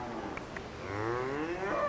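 A cow at the Cass County 4-H county fair lets out a long, drawn-out moo that swells and wavers, fairly close, over the faint background murmur of the barn, with no clear speech.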